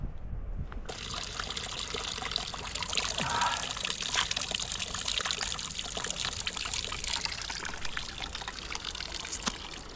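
Mountain water trickles and pours steadily near a Dolomites alpine hut, a continuous close splashing that lasts throughout.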